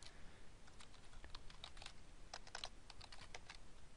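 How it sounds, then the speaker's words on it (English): Quiet, rapid keystrokes on a computer keyboard clatter in short irregular bursts, faint and close, over a low steady background hiss. "if I type in Alex, you'll see Alex pop up in this F4 cell"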